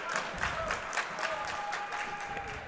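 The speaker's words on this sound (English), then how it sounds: "Tigers clapping it up." A crowd at a girls' Division 2 sectional semifinal basketball game claps steadily through a timeout in a gym, with sharp high squeaks riding over the dense, even applause.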